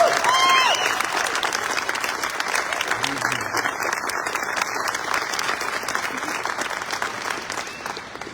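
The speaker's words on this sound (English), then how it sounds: "a round of applause for Celine." Continuous audience applause at a military retirement ceremony, a crowd clapping steadily with some cheering mixed in, holding at an even level across the whole stretch.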